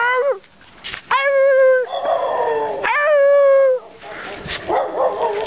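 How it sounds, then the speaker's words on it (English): Several dogs howl together in drawn-out, wavering cries with yips and whimpers mixed in, loud and close, carrying on in overlapping phrases for several seconds. "Sing along with the doggies."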